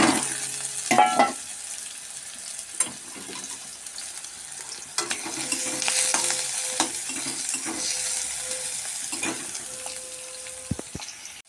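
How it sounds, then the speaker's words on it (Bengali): Chopped onions frying in white cooking oil in a hot wok, a steady sizzle with several sharp clatters of stirring, with no one talking. "পেঁয়াজগুলো লাল লাল করে ভেজে নেব।"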